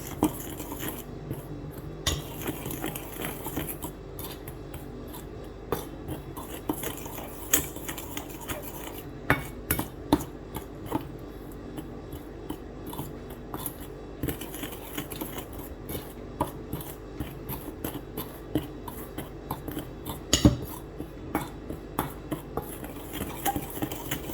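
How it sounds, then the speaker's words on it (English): Spoon or whisk mixing cocoa powder into donut batter in a bowl, continuous scraping and clinking against the bowl with irregular taps, close and steady throughout. "Give this a good mix."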